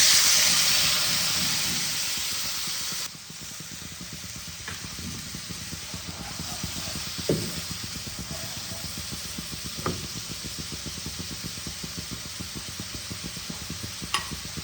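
A water mix of cumin, coriander and Kashmiri chilli powder hits a hot pan in a loud hissing burst that fades over about three seconds, then gives way to a softer steady sizzle marked by occasional stirring clinks.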